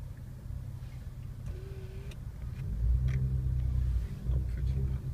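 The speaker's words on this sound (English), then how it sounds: "It's the clutch gone and the gearbox is chewed up." A worn-out car with a failing clutch and chewed-up gearbox, a low rumbling engine drone that swells louder partway through, with faint scattered knocks and no talk.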